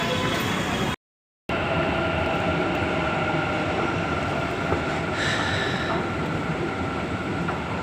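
A metro train rumbles at a station platform, a steady loud mechanical drone with faint rail clatter and a brief high squeal, with a short gap of silence near the start.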